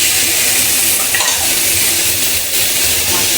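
Fish going into hot oil in a pan with garlic paste, onion paste, salt and turmeric, sizzling and frying steadily and loudly at close range, with occasional stirring scrapes.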